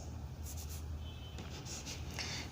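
Pen or marker strokes scratch out math notation for a class 10 circles lesson, a few short close scribbles in quick bursts with no talk over them.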